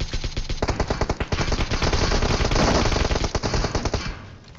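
Automatic gunfire in the mobile battle royale game PUBG Mobile: loud rapid bursts of rattling shots, nearly continuous with a few short gaps, close and dominant with no talking.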